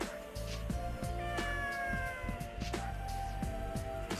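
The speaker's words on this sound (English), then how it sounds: "Is that a cat?" Cat meowing in the video game Mind Zero, a couple of short rising meows set against a low rhythmic background music track.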